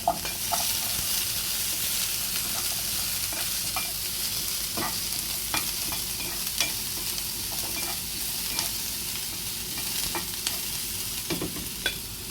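Steady sizzling of onion frying in a pan, with occasional light pops and clicks of stirring throughout, no talking.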